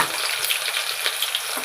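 Garlic dropped into hot oil for tempering, a close, bright, continuous crackling sizzle with no voices.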